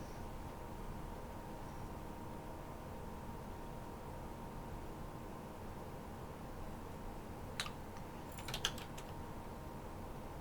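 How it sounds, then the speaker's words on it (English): A quick burst of typing on a computer keyboard, a cluster of light clicks near the end, sits under a steady low hum in an otherwise quiet room. "This is a weird way of typing all this."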